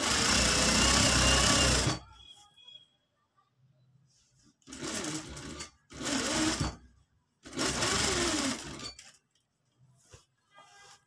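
Sewing machine stitching a shirt hem in several loud whirring bursts of rapid needle strokes, with short pauses between runs and faint handling noises in the gaps.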